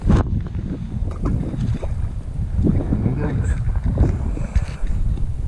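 Strong wind batters the microphone below a dam during a bass fishing outing, a continuous low rumbling roar with gusty swells throughout.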